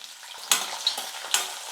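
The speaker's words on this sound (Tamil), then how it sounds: "பாருங்கள், பூண்டு வெங்காயம் வரமிளகாலாம் நல்லா வறுப்பட்டுடுச்சு." Garlic cloves, small shallots and dried red chillies frying in hot oil in a pan, a soft continuous sizzle broken by three sharper scraping stirs.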